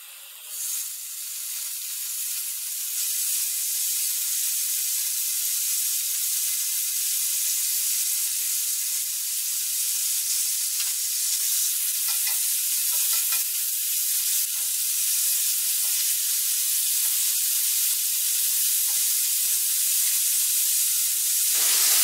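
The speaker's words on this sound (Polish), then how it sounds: "Kroimy boczek i wrzucamy do podsmażenia na patelnię." Sliced bacon frying in a spoonful of oil in a pan, a steady close bright sizzle that holds evenly throughout with faint crackles and no talking.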